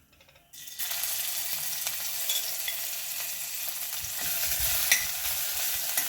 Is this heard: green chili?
yes